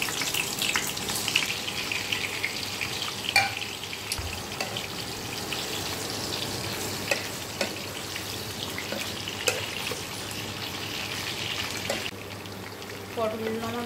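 Slices of pointed gourd fry in hot oil with a continuous soft sizzle and scattered crackles and clicks, steady and close throughout, with a faint voice now and then.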